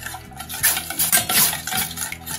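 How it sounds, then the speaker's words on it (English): Homemade baby rice cereal stirred in a pot over medium heat, a spoon scraping and clinking rhythmically against the pot in quick repeated strokes, close and fairly loud. "So now we are going to stir this very well."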